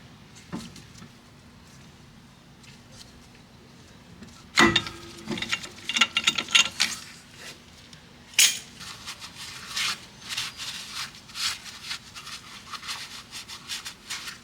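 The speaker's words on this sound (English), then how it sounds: "Use the brake piston tool. Push the piston back in there." Brake piston tool pushing a caliper piston back on a 2007 Toyota Highlander Hybrid front brake, giving irregular metallic clicks, ratcheting and clanks, close and moderately loud after a quiet start, with no talk.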